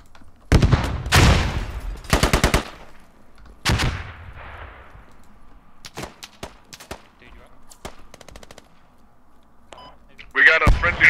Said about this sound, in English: Yeah, Skylar. I'm under fire.